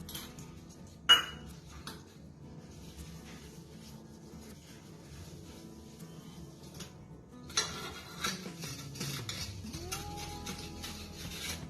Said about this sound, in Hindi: भगवान के सारे बर्तनों को क्लीन करना, जो पूजा के सारे बर्तन यूज़ होते हैं